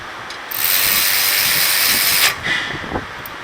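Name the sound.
socket ratchet wrench on Ford Fusion brake bolt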